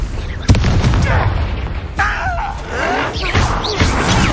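A Confringo fire spell bursts in Hogwarts Legacy, a sharp boom at the start followed by further crashing blasts and magical whooshes, loud and dense, with a voice shouting over the opening.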